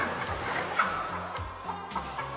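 A rooster among hens in a coop barn, with close, repeated clucking and short fowl calls scattered over a steady background hum.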